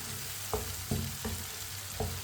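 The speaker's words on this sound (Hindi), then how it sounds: "टमाटर को भी 2 मिनट के लिए मैंने पका लिया है।" Chopped tomatoes cook down in a hot pan for a white chana curry, giving a continuous sizzle broken by four soft spoon-against-pan knocks spaced about half a second apart.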